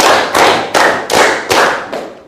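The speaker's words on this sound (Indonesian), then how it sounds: "Tepuk 1, tepuk 2, tepuk 3, tepuk 4, tepuk 5." A primary-school class claps a counted rhythm together, five or six loud, sharp, evenly spaced group claps, close and alone without talk.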